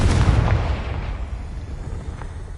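A Confringo fire spell exploding in the video game Hogwarts Legacy: a loud, close, deep boom that rolls off into a long rumbling decay.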